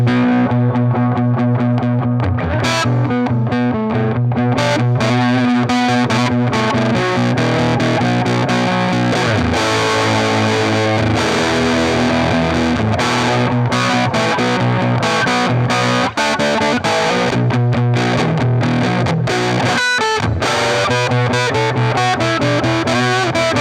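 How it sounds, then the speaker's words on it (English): A Reverend Sensei Jr electric guitar with P90 pickups plays through a cranked amp with a faux slapback reverb, giving a loud, dense, heavily distorted riff that runs continuously without pause. "We got it cranked up. I got the dwell cranked and the mix turned down, so it's kind of a faux, almost slapback."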